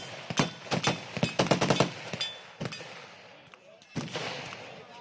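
A 1-inch swivel gun is fired at an outdoor range, heard as a cluster of sharp cracking reports, several close together and then a few spaced shots, amid other gunfire on the line.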